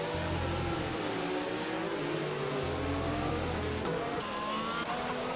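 F1 2022 race cars scream past in the video game, continuous loud engine whine rising and falling as the cars swap places, with no talk over it.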